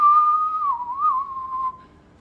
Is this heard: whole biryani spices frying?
no